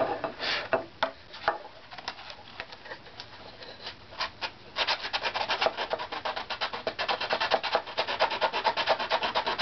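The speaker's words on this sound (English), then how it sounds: "I try this with our sandpaper too." Sandpaper rubs back and forth over the wooden strips of an instrument back plate in rapid, close scratchy strokes, starting in scattered swipes and settling into a steady fast rhythm.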